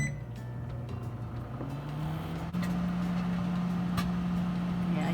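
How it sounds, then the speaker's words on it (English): A steady electric hum from a microwave oven cooking an egg, with scattered small pops and a faint sizzle over it; the hum shifts slightly in pitch partway through, and no one speaks. "I hear it popping like popcorn in there. It almost sounds like it's sizzling in a big way."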